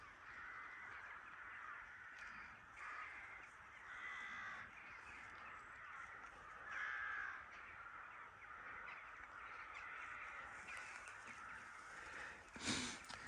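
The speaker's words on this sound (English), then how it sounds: "You can hear a lot of birds." Crows caw repeatedly across the Scottish countryside on a frosty morning, harsh calls at moderate distance over a steady bed of other birdsong, with one louder close call near the end.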